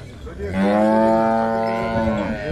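A buffalo or cow at a livestock sale, giving a single close, loud, drawn-out moo lasting about two seconds, with no talk over it.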